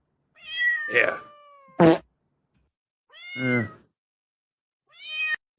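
A cat meow sound effect: three or four separate meows with short gaps between them, loud and clear, plus one sharp click. A voice speaks a single brief word.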